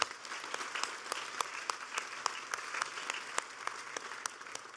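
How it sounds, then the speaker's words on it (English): An audience applauds at a speech by President Biden and Governor Wes Moore in Maryland. The clapping is even and continuous, with crisp individual claps, and sounds somewhat distant. "that's the applause line"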